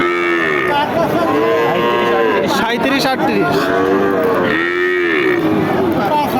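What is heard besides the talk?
calves mooing at a cattle market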